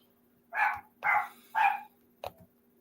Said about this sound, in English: I'm tired of this damn dog barking